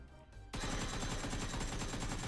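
A burst of rapid automatic gunfire in the video game PUBG Mobile kicks in after a brief quieter moment and rattles on continuously, loud and close.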